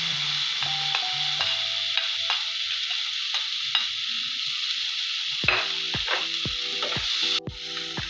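Pepper and tomato for a plantain pizza cook over very low heat in a pan, giving a constant soft sizzle. A spoon stirs and taps against the pan now and then, and the clicks come quicker and louder toward the end.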